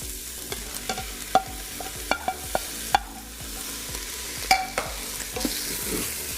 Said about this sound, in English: once your steak's done, we're just gonna add the mushrooms and onions just right back in.